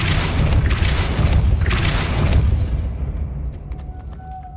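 A heavy boom from the Depulso spell in Hogwarts Legacy hits with a loud low-end blast and a long rumbling tail, then fades into quieter mechanical clinks and a faint tone.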